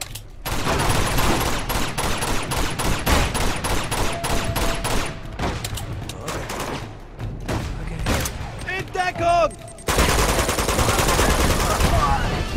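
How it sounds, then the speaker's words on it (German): Shotgun blasts and rapid gunfire from the video game Uncharted 2: Among Thieves on PS4, a dense string of loud, sharp shots with bursts and pauses, ending in a sustained roar of fire. "die Schrotflinte. Ein starker Schuss damit und das war's."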